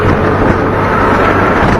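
Strong wind buffets an SJCAM SJ8 Air action camera used without its waterproof case, a steady loud rumbling roar of microphone wind noise filling the whole stretch with no talk.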